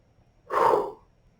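A single yawn-like breath, a soft rising exhale lasting about half a second, close and fairly loud against a quiet room.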